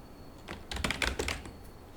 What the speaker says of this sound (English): Is the keyboard noise okay with you?